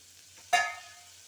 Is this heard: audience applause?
no